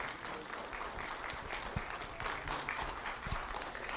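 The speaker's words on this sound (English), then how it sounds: "Round of applause for Jason Ruiz" Faint, distant clapping from a crowd at a Lee County Sheriff's Office recognition ceremony honoring an elementary school student, a low, continuous patter lasting a few seconds.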